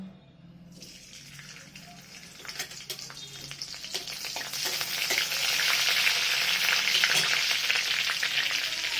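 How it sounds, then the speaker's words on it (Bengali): Chopped green chillies sizzle in hot oil in a heated kadai, the frying hiss building steadily louder and denser across the clip, with a few faint clinks and no voices. "এতে আমি দেবো তেল, তারপর দেবো লঙ্কা কুচানো,"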